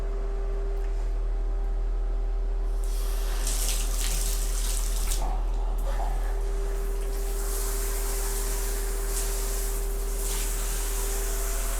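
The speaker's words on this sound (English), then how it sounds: "Can't finish a work of art like this without running some water through it and checking it out." Water pours through a newly installed rain shower head, starting after a brief hum and then settling into a loud, steady hiss of spray that continues alone to the end.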